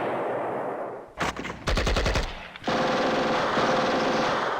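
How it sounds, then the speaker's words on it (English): Artillery shells land in the Steel Panthers WW2 war game, heard as a loud, rapid burst of close explosions over a constant hiss, a short pause, then a dense, sustained roar. "They've been continuously dropping more and more shells onto the center"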